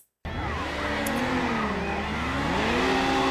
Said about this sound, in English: Let us race him in our brand new Mazda RX-7